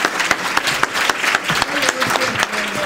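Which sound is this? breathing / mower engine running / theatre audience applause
theatre audience applause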